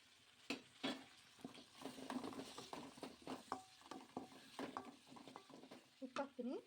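Tomatoes go into a frying pan and are stirred while a Kannada home cook makes mandakki (puffed rice) tiffin, giving a soft sizzle under scattered scraping and clinking of a spoon against the pan, with a few sharper knocks.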